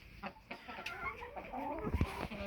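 Hens cluck softly and intermittently in a farmyard flock that is not laying, with low murmuring calls close by and a little background noise.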